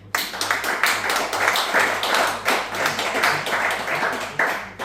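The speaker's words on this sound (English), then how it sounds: "He deserves an applause." An audience at an annual gathering breaking into applause, dense irregular clapping from many hands that swells and eases in waves, close and lively, with no talk over it.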